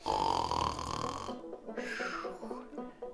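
A voice imitates snoring with a drawn-out, rattling snort followed by a few shorter guttural breaths, close and fairly quiet.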